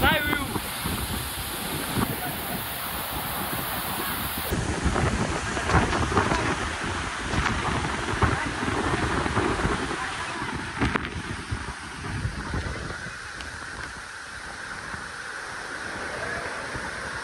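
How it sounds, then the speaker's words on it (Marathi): Monsoon rain and the rush of a waterfall at Kasarwadi in Radhanagari make a steady, loud broadband wash, with gusts of wind buffeting the microphone and faint voices mixed underneath. "पाऊस पण सुरू झालाय."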